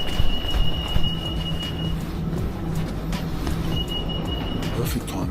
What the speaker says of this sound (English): Bro, that's our train.